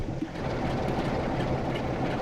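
A British Rail Class 47/6 diesel locomotive in a train simulator on a Great Western Express run, its engine revving up as a steady, dense low rumble with rail noise.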